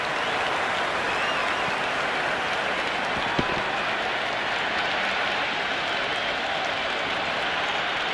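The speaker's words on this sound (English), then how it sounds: "It's evident and ever so audible that the crowd is at near bursting point at today's play" A stadium crowd in the Cricket 26 video game roars and applauds as a dense, unbroken wash of noise, loud and steady throughout with no clear voices above it.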